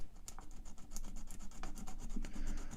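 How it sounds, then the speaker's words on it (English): Sandpaper rubbed by hand against a small button on a Line 6 Echo Park guitar delay pedal under repair, a close, steady scratchy rasp in quick repeated strokes with no talking. "So now I'm just taking a little sandpaper and maybe trying to get it so that it doesn't stay caught."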